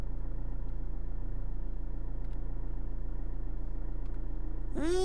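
An old car's engine idles in the horror video game The Classrooms, a steady low drone throughout with a brief rising tonal sweep at the very end and no talking.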